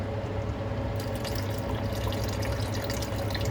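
Tamarind water pouring into a pot of dal gosh, a steady liquid trickle and splash with a constant low cooking hum beneath it, continuous and close throughout.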